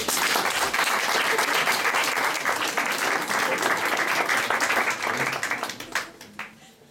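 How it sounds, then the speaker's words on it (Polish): An audience at a Polish poetry event applauds, with dense, lively clapping that stays strong and then breaks into a few scattered claps as it dies away. "Wielkie brawa dla was."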